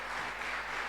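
Church congregation applause during a Sunday service, a brief, faint, even wash of clapping heard at a distance.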